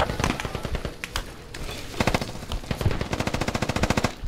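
Rapid automatic gunfire from a Squad firefight aimed at an enemy on the top floor of a tall building, delivered in loud, close, repeated bursts with short pauses between them.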